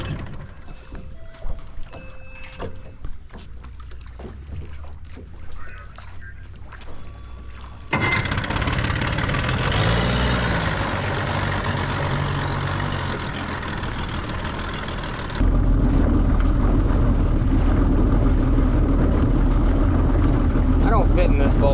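A T850 race boat engine cranks and catches, then runs with a loud, steady low roar that steps up again in intensity partway through, heard up close with some talk early on.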